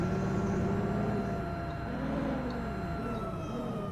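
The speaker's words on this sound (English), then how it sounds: "sirens are going off" Tornado warning sirens wail during a storm chase, rising and falling in slow sweeps that carry over a steady background rumble, loud and sustained with no speech.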